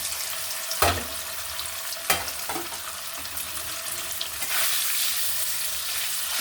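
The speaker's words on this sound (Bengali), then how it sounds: "পনিরগুলো এক এক করে ভেজে নেব" Strips of paneer frying in hot oil in a pan, a steady bright sizzle with a few sharp crackling bursts as pieces drop in, swelling louder toward the end.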